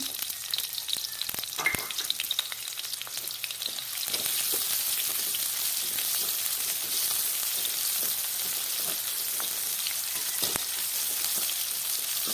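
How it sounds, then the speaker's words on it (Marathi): Green chilies fry in hot oil for sabudana khichdi, a continuous close crackling sizzle that grows a little fuller after the first few seconds, with occasional faint spatula knocks. "मिरची छान फ्राय करून घ्यायची आहे"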